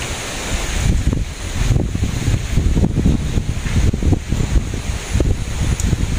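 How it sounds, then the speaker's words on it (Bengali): Wind gusts outdoors in a village on a dark, rainy day, a steady loud rushing roar with buffeting surges that swell and ease over several seconds, no voices. "এই যে বাতাস আসছে"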